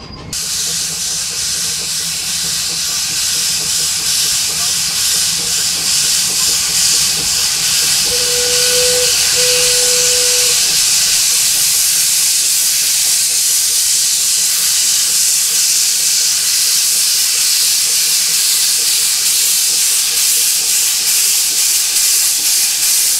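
A Disneyland steam train gives off a steady, loud hiss of escaping steam that fills the whole stretch, with a faint brief tone near the middle.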